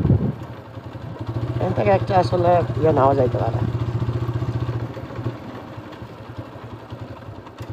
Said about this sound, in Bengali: বাইকটা একটু থামাই